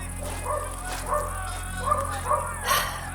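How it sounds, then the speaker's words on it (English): Several dogs bark in short bursts, somewhat distant, over a steady low rumbling background. "Shouts, dogs barking."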